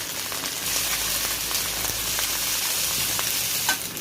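Onion with ginger paste and a ground paste of dried red chili, cumin and coriander frying in oil for a spicy crab curry: a loud, dense, continuous sizzle with faint stirring ticks and no voices.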